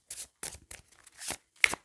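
Oracle cards are shuffled by hand in a few short, soft riffling bursts separated by brief pauses, close and fairly quiet with no talking.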